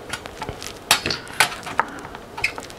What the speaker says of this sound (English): Just pop this black cover off,